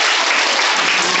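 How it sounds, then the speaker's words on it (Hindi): Loud, dense applause from a school assembly celebrating the winning house in an Earth Day inter-house competition, steady clapping filling the whole moment without pause. "इनके लिए जोरदार तालियां"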